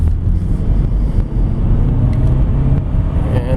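A 2003 Honda Accord EX with a five-speed manual transmission drives along, its engine a low, steady rumble heard from inside the cabin, rising and dipping slightly as it downshifts and rolls to a stop, with faint interior clicks.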